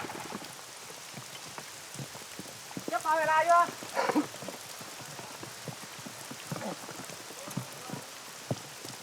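Heavy rain pours down steadily in the mountains, a dense patter of drops on surfaces, with a brief burst of other noise partway through and a voice speaking over it.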